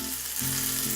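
Chopped garlic frying in about two teaspoons of refined oil in a pan, a close, steady hiss and sizzle lasting a moment without any talk.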